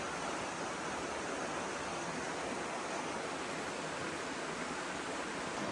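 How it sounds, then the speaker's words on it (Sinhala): A river at Patuna Chasm near Martinborough: a constant, even rush of flowing water, full and close, with no voices. "දැන් ඔන්න අපි ගඟ ළඟට ඇවිල්ලා තියෙන්නේ. මේ මෙතන ලස්සන වතුර පාරක් තියෙනවා."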